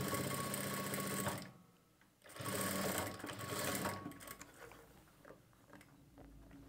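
A sewing machine stitches along folded piping in two loud running bursts, with a short pause between them, then a quieter, uneven stretch of rapid mechanical ticking close by.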